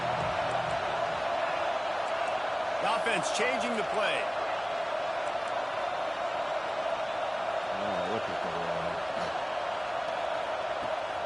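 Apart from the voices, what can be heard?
stadium crowd noise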